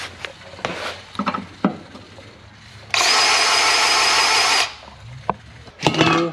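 An automatic DeWalt grease gun pumps grease into the main spindles of a John Deere 325 mower, with one loud, steady motor whir lasting under two seconds between clicks and knocks of handling, then a short second burst.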